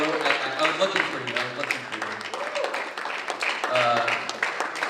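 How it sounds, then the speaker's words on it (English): Audience applause at a 2018 university student government presidential debate, a sustained round of clapping from a crowd with voices and cheers mixed in. "I want you guys to give them a grand round of applause"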